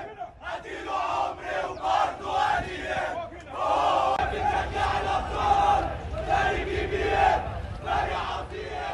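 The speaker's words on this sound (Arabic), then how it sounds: "اسمعوا كده بس معايا الهتاف اللي الجمهور بيقوله للاعيبه" Al Ahly football fans gather to welcome the team on its arrival at the airport in Sudan, and a dense crowd chants loudly in rhythmic waves that keep swelling and surging without pause.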